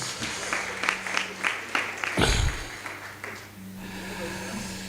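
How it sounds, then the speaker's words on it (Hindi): Audience applause for folk artists at a Hindi comic poetry gathering: scattered claps build to a brief loud burst near the middle, then fade, with someone talking over much of it. "मैं उन लोक कलाकारों के लिए भी एक तालियां आमंत्रित कर रहा हूँ"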